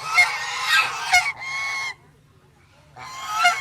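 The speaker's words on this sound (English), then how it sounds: "what we got here today is ducks fighting for food at a lake" Ducks squabbling over food at a lake, a burst of loud, harsh honking quacks that breaks off into near silence and then flares up again, with no talking over it.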